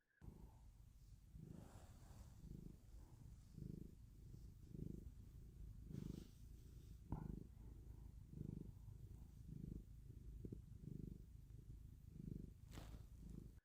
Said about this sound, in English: he would purr into the phone